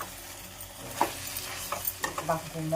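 Fried dried fish being stirred into a brinjal curry in a pan, with a soft continuous sizzle under scraping spoon strokes and a few sharper scrapes and knocks near the end.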